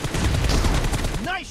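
Rapid gunfire rings out in a PUBG Mobile team deathmatch, a dense burst of shots running almost continuously at close range, with a game voice speaking over the top.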